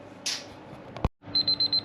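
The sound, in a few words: meat thermometer timer beeping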